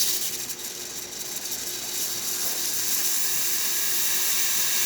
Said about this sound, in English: And then I'm just going to test the steamer.